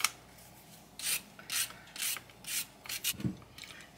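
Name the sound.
peeling carrots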